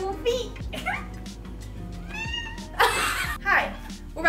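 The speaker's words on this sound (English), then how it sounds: "Pocket cat." A cat gives a few short meows close by, mixed in with someone talking and brief bursts of noise.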